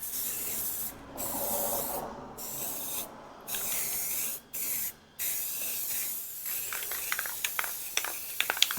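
Spray can of combined paint and primer hissing out in light coats, several steady bursts broken by short pauses, followed by fainter sputtering ticks.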